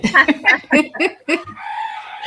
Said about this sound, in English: I'd like to turn it over to the rooster